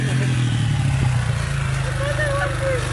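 A motorcycle engine revs loudly and steadily during wheelie practice, a low mid-pitched drone running throughout with voices talking over it.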